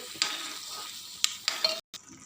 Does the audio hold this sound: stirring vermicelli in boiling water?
yes